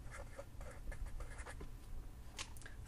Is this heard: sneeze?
no